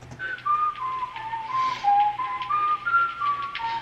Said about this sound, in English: when I hear the whistling